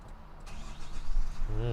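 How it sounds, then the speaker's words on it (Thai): A Nissan Navara King Cab Calibre V pickup with a 7-speed automatic cranks and fires up close by, its engine rising into a steady low rumble, with someone talking over it. "เดี๋ยวผมไปสตาร์ทรถให้ดูนะครับ"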